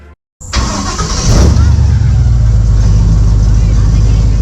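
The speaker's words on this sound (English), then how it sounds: "the sound of a big block crate coming to life on the water" A big block crate engine on a swamp tour airboat fires up on the water with a sudden loud catch, then settles into a deep, steady, rumbling roar close by.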